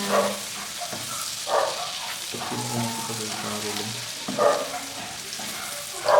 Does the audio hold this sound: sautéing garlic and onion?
yes